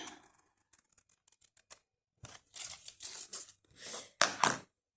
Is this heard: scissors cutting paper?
yes